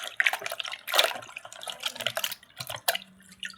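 Water runs and splashes as vegetables, including small onions, are washed for an Andhra-style pappucharu. The splashing and dripping are irregular and fairly quiet, with no talking.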